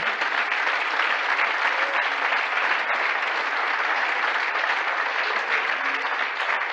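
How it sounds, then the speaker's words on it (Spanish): Loud, sustained applause from a church congregation at an evangelical service, a dense, even roar of clapping from many hands that holds steady throughout with no voices over it. "ahora sí lo quiero ver si estamos de acuerdo con un aplauso bien fuerte"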